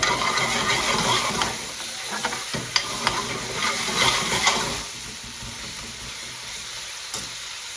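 Onions fry and caramelize in a pan for spicy keema with aloo bhuna, giving a steady close sizzle with stirring scrapes and a few light clinks, easing to a calmer hiss toward the end.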